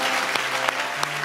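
A church congregation applauds in a brief, steady burst of dense clapping, with a low hum underneath and a few sharper claps standing out.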